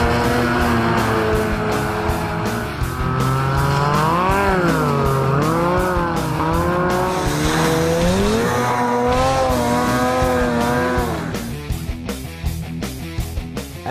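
A Polaris 800 Switchback Assault 144 snowmobile roars past at speed on a frozen lake, its engine note rising and falling loudly and continuously before fading into choppy wind noise.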